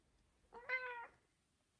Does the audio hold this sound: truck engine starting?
no